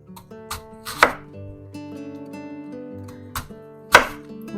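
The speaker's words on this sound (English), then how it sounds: "And I'm just cutting some slices," Knife slicing a red onion on a cutting board: a few crisp, separate cuts with gaps between them, two of them louder, close-up over faint background music, no talk.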